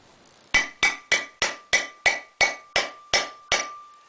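Eleven evenly spaced metallic hammer strikes ring out on a 1 7/8 inch socket, driving a front wheel bearing into a 2001 Ford Ranger hub; each sharp, close clang decays quickly in a steady rhythm with no talking.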